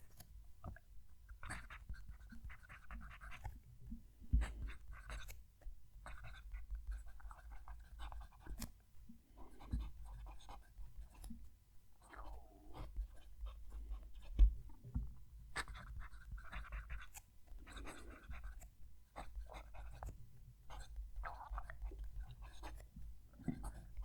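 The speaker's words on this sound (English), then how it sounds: "Let's move the mic down to the table so you can hear the pen writing." Faber-Castell Hexo fountain pen scratching across paper close to the table, soft irregular strokes and scribbles with light handling noise and occasional quiet voice in the background.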